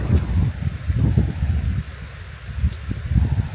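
Strong gusty wind buffets the microphone on a mountain hike in UKK park, rumbling low and uneven in surges with brief lulls, no voices.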